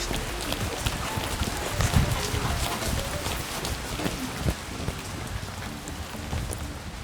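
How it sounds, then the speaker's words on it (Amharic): Steady rain pattering on surfaces during a dish installer's workday, dense and continuous with heavier drops now and then, close and moderately loud, with voices faintly under it. "ዝናቡ ምንም የሚያባራ ይመስላል።"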